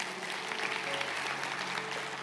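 Steady applause from a church congregation during a sermon, sustained and fairly even for a couple of seconds with no talking over it.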